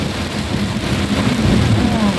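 Heavy rain drumming on a car driving along a highway, a steady, dense wash of noise with a low rumble beneath it, loud and continuous.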